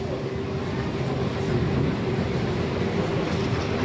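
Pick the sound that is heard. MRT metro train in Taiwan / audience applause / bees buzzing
MRT metro train in Taiwan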